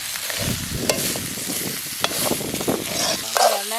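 Potatoes being stirred into a simmering Jaffna-style mutton bone curry, with loud close scraping and clattering of the spoon against the pot over a steady sizzle, a few sharp knocks near the end.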